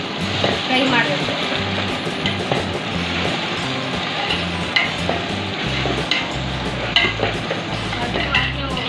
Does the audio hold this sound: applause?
no